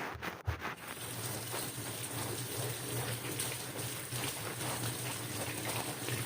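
Water runs steadily from a tap to rinse baking soda off teeth, a continuous close hiss that holds at an even level throughout after a brief bump at the start.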